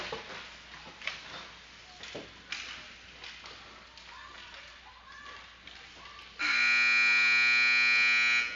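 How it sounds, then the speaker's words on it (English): An ice hockey arena buzzer sounds during a youth league game. Scattered thuds and taps of play come first, then a loud, sustained electronic buzz cuts in and lasts about two seconds to the end. "That's the buzzer."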